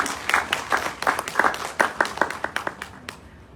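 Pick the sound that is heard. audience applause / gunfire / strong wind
audience applause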